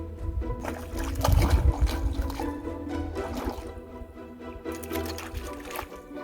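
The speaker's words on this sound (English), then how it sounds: "Little brook." A small mountain brook trickling along a backcountry trail in the Uinta Mountains, a soft, continuous gurgle and burble of shallow water, close by and fairly quiet.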